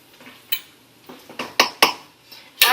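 A spoon scraping and knocking against a pot while cheese is stirred into sweet potato burrito filling, giving several sharp clinks and scrapes in an uneven rhythm, close and fairly loud, with no voices.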